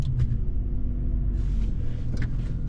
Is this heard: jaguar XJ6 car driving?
yes